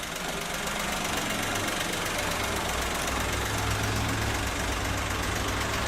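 A 2009 Smart Fortwo Passion coupe sits idling with its rear-mounted engine, giving a steady, low, slightly knocking hum that holds evenly at close range throughout, with no talk over it.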